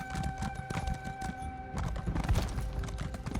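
Horse hooves clip-clop steadily through a video game fantasy world in Elder Scrolls Online, with a brief whinny near the end, the ride continuing at an even pace against a low music bed.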